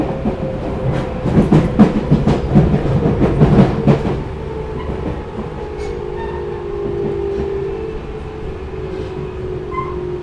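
A Tobu 350 series limited express Kirifuri train running, with a loud rumble and rhythmic clickety-clack of wheels over rail joints that fades to a steadier, quieter hum as the train continues along the track.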